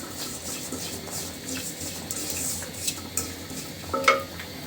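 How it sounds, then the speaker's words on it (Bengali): Sesame seeds dry-roasting in a pan for a sesame mash, a soft continuous rustle and faint crackle with a few light utensil scrapes and a clink near the end, close and quiet. "তিলের গা কিন্তু সাধারণত চ্যাপ্টা থাকে, আর যখন ভালোভাবে ভাজি করা হয়ে যায় তখন কিন্তু তিলটা ফুলে একদম সমান হয়ে যায়।"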